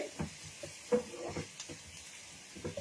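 Butter garlic paneer fried rice fries gently in a pan over a lowered gas flame, a soft sizzle broken by small spattering bursts and stirring sounds.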